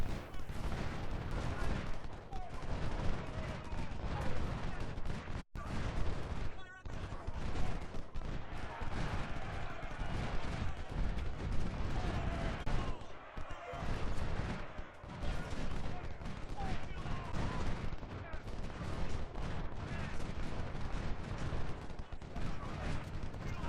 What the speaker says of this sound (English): that one enemy unit is getting shot at by 1, 2, 3, 4, 5, 6 of my units